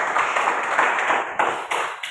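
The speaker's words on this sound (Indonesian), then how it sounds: "Benar, tepuk tangan dulu" A class of students claps together in a short burst of applause, dense and close, fading into a few scattered claps.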